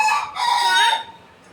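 A domestic rooster crows loudly and close in a village setting, one long drawn-out call that rises and then trails off within about a second and a half.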